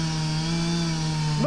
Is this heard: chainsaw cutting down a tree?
yes